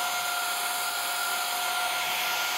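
A cordless handheld Aorika vacuum cleaner runs steadily at close range, a continuous high-pitched motor whine with airy suction hiss and no break throughout.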